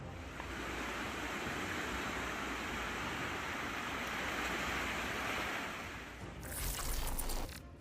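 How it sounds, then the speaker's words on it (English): Massive torrent of water pouring from a dam drainage outlet, a steady, loud broadband roar holding throughout, with a brief harsher surge near the end. "You will find it extremely fascinating to gaze upon the massive water flow coming from the dams."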